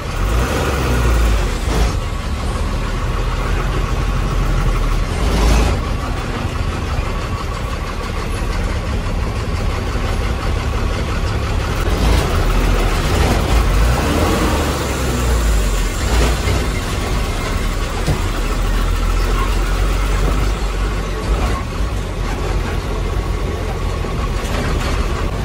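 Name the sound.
two big trucks passing on a narrow road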